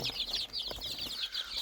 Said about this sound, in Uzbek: Bunda 9 kunlik jo'jalarimiz bor.